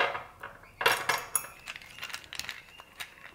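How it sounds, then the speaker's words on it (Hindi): Ice cubes clink and rattle as they drop into drinking glasses for fennel sharbat. Several close, bright clinks come in a quick cluster, followed by scattered lighter taps. "तो सबसे पहले हम इसके अंदर बर्फ़ डाल देते हैं"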